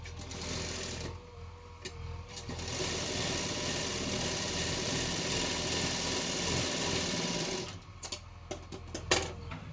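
A sewing machine stitches a long frock, running in one continuous whirring burst for several seconds before stopping and giving a few clicks, close and fairly loud with no talking.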